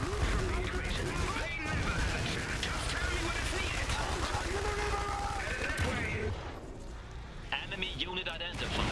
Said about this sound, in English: These machine gunners are gonna have to hold them!